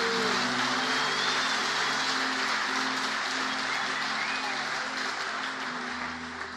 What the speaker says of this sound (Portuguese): Dê um aplauso ao Deus Todo-Poderoso